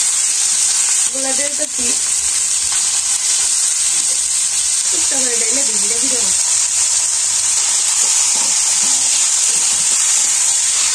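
Spices sizzling in hot oil for a village-style chicken curry, a steady bright hiss running throughout while someone speaks over it.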